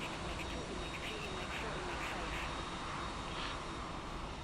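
A steady, distant jet-airliner engine roar hangs over an airport in a flight simulator as a plane lands nearby, a continuous broadband hum with no talking.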